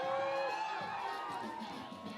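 Spectators at an outdoor big air ski event cheer and whoop for a skier, a broad roar of voices mixed with scattered shouts at moderate distance.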